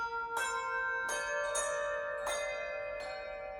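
Church bells at St Martin in the Bullring, Birmingham, rung in sequence by bell ringers: five clear, ringing strikes spaced under a second apart, each with a long shimmering decay overlapping the next, heard at moderate distance.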